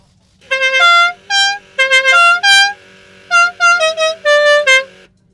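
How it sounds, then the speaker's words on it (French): A multi-trumpet musical car horn with five or six horns, fitted to an MG or Peugeot 304, blares out the La Cucaracha tune in loud, close, bright bursts of notes separated by short gaps. "le magnifique klaxon 5 ou 6 trompes qui c'est la cucaracha"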